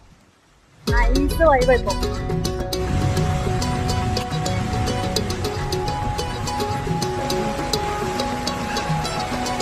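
Heavy rain on a road near an expressway in Kochi, heard while walking. It sets in abruptly as a dense, steady hiss, with music and a brief voice over it.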